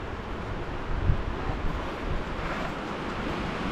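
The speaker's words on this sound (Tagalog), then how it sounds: "ang lakas ng hangin" Strong wind blows outdoors in spring in Finland, with a steady, loud broadband roar and microphone buffeting that rises in gusts around the second mark, and no talk over it.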